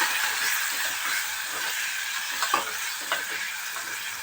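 Three chopped tomatoes fried over medium flame for okra-tomato curry, a dense steady sizzle with a few stirring clicks, close and with no speech.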